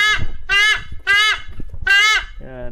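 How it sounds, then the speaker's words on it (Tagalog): A bird calling with four loud, nasal, honking cries in quick succession, close and clear, followed by a lower, shorter call. "Ito po yung tumutunog na ibon."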